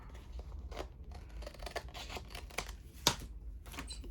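Scissors make a series of faint, crisp snips through paper while a journal signature is put together, with a few light taps and rustles close by and no talk.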